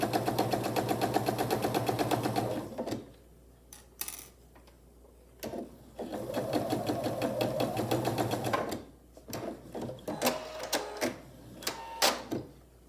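Sewing machine stitching quilt block fabric, with a fast steady run, then pauses and shorter slowed bursts of stitching mixed with small clicks and handling noises, fairly quiet and close.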